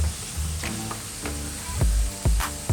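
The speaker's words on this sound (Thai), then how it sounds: "จากนั้นเราใส่กุ้งกับกระเทียมไปเลยแบบนี้ครับ" Shrimp and garlic frying in a hot pan, a steady sizzle with a few sharp clinks of a utensil scraping and tapping the pan, close and fairly quiet.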